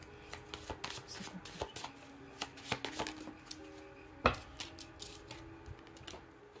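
Cards are shuffled and drawn for a card reading, giving quiet, close, irregular riffling and snapping clicks with one sharper slap partway through.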